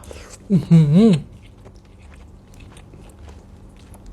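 Sticky rice being bitten and chewed at close range, a short burst of wet mouth sounds over a quiet background, with a brief voiced hum at the start.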